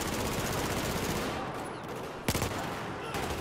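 Battlefield 4 gunfire piercing metal cover: steady, dense rattling automatic fire in a loud battle, thinning midway before a sharp, heavy shot lands, then the shooting continues.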